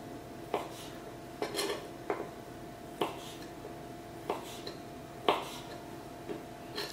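A knife chops pork into small pieces on a board, with a series of separate sharp knocks at an irregular, steady pace, fairly close against a faint background hiss.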